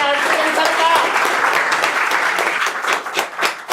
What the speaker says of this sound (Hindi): तो जोरदार तालियों से स्वागत कीजिए सर का।